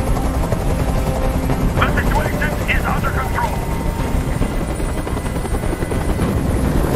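Loud, steady helicopter rotor drone fills a hostage scene in the video game Detroit: Become Human, with brief voices breaking through midway.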